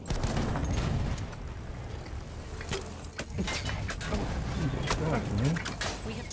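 Gunfire from a player shooting in Battlefield 1, a dense barrage of shots and game noise under a steady loud bed, with voices talking over it throughout.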